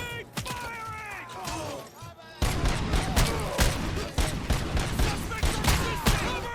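Rapid gunfire in the RoboCop: Rogue City video game, bursts of sharp shots crackling close and loud with mechanical clatter, with a voice calling out over the shooting.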